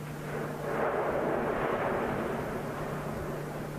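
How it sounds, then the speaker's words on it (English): Volcano rumbling and erupting in Guatemala, a continuous deep roaring rumble that swells and holds steady, loud and close, with no talking. "The noise of the volcano's rumbling is frankly terrifying."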